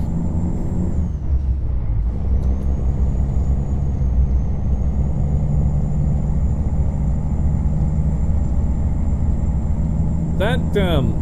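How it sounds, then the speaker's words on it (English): A heavy truck engine, a Freightliner Classic XL in a trucking video game, drones steadily at low pitch throughout, with a brief hiss near the end. "Love the sound of this truck."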